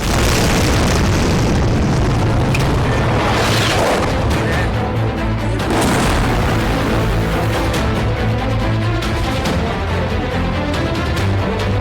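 Blast at Nur Khan airbase in Rawalpindi: a loud, continuous roar of rumbling booms and crackling bursts, dense low-end thunder sustained for the full length with no clear pauses.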